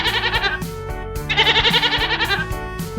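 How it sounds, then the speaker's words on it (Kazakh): A goat bleats in rapid, quavering bursts, a trembling call repeated several times close and loud over soft background music, with nobody speaking. "Ешкі."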